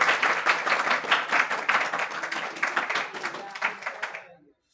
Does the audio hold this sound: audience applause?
yes